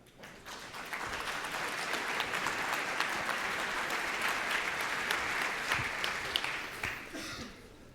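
Sustained audience applause welcoming a paleoartist to the stage at a conference talk, a dense even wash of many hands clapping that swells quickly and fades near the end.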